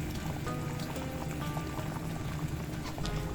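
Chicken breast simmering in a soy and garlic sauce in a pan, giving a steady low bubbling and faint popping that runs continuously and quietly throughout, with no voices.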